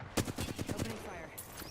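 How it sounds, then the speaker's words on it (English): Rapid automatic gunfire from a video game, a dense burst of shots at a steady fast rhythm lasting about a second, then fading into lingering game noise. "Opening fire."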